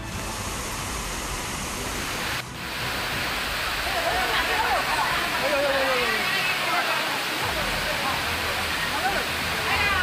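Loud, continuous roar of floodwater rushing through city streets with turbulent churning, steady throughout with a brief dip early on.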